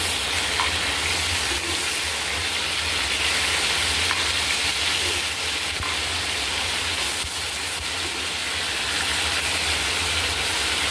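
Chicken pieces frying in a pan over a high flame, giving a loud, steady sizzle that runs unbroken throughout, with no voices.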